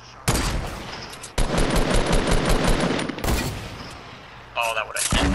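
Bursts of Fortnite gunfire in a squads match, a long sustained volley near the start and another heavy stretch midway, loud and close, with fast rattling shots broken by short gaps and a few sharper blasts at the end.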